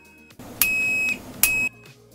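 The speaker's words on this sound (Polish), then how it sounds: "Tester ciągłości ma bardzo cichy pisk." Continuity tester on a Feizer FZ829 multimeter-oscilloscope gives two steady, high-pitched electronic beeps: a longer one, a brief pause, then a shorter one, clear with no talk.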